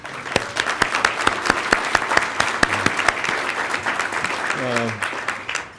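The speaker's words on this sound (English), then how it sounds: "Can you just give yourselves a round of applause?" A room of students at an awards event applauds themselves, steady close clapping throughout with a speaker's voice over the top.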